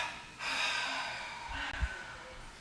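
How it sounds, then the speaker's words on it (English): Two forceful exhales through the mouth during a yoga session, a long breathy rush followed by a shorter second one, close and clear in a quiet room. "And then through the mouth, double exhale, release."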